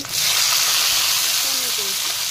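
Chopped onion frying in oil in a pan, a loud steady sizzle that starts right away and holds evenly, with a couple of faint tonal clinks near the end.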